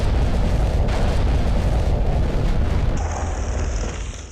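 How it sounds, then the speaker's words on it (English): A flamethrower roar from a Hobbit dragon scene: a loud, continuous, rushing gush of fire that holds steady and then slowly fades, with no talk over it. "Honestly, it's the most frightening flamethrower that you will ever see in your life."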